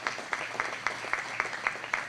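Applause at a banquet for a county sports hall of fame induction, quiet and somewhat distant, with a regular, evenly spaced pattern of claps standing out from the softer clapping of the crowd.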